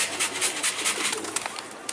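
Pigeons coo and flutter under a bright, hissy outdoor background, with the calls holding steady for a couple of seconds and no talking.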